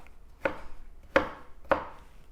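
Three crisp knife chops land on grilled watermelon against a cutting board, evenly spaced about half a second apart, close and clear with no talk.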